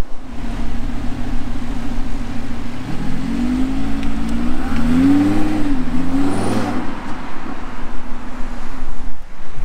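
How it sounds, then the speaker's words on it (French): A V10 rear-wheel-drive supercar pulls away and accelerates, its engine note rising and wavering mid-clip over a steady low rumble and wind-like noise, fairly loud and close, with no talking. "on a déjà pu entendre un petit peu les vocalises du V10"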